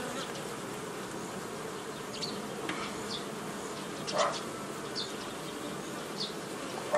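Honey bees hum in a dense, steady drone over a hive frame, close and continuous, with a few individual bees buzzing louder as they pass nearby.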